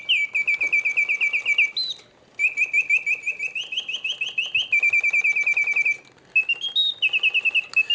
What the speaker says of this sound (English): The birds sing with full voice, hitting all the proper oscillating notes, yet the mechanism runs smoothly and quietly.